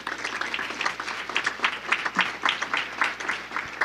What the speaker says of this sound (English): And I think we owe you a round of applause, Karen.